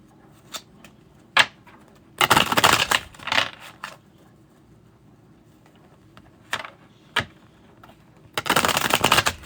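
Tarot cards riffle and snap in quick bursts, a few short flurries with sharp single slaps between them, close and crisp with no talking.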